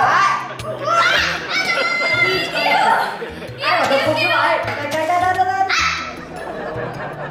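A dog in the Minecraft video game barks in short repeated yelps, mixed with music and lively voices of people chatting and laughing close by.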